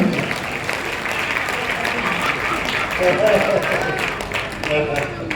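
At an international Hindi poetry gathering in Bhayandar, the crowd claps steadily in a thick, sustained patter, with speech running over and under the applause throughout.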